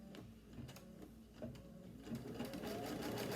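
An embroidery sewing machine stitches through folded fabric for a heirloom quilt, giving a steady rapid mechanical whirring and ticking that builds slightly louder toward the end, with no talking.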